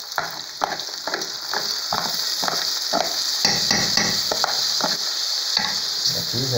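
Washed rice pours and rattles into a pot with a series of grainy, scraping bursts over a steady hiss of cooking, close and fairly loud, without talk.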